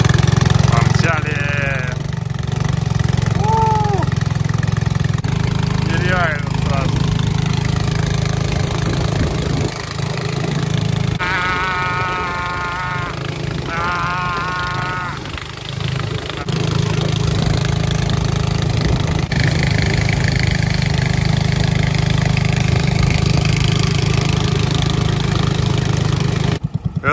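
A taxi engine drones steadily and loudly through the whole ride in Bangkok, with a low idling rumble and mechanical buzz, while people talk over it.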